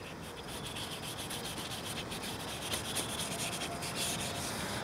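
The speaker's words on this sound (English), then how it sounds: "our final sand with the 400 grit is going to be a horizontal sand, not a swirl anymore, a horizontal sand" An oxidized plastic headlight is sanded by hand with 400 grit sandpaper, a close, continuous scratchy rubbing with quick back-and-forth strokes at a steady rhythm, heard alone without speech.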